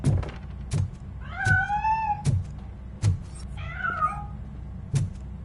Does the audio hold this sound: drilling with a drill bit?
no